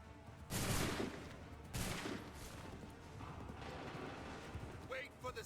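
Musket volleys fired on command in Assassin's Creed III, two loud crackling bursts of massed gunfire followed by rumbling battle noise and clatter, with voices underneath.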